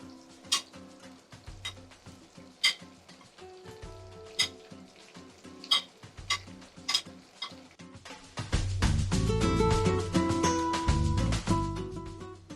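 Onions and green chillies fry in a pan for a paneer pulao after whole spices and cashews, with scattered ticks and stirring clinks, then a loud steady sizzle as the ingredients hit the hot oil.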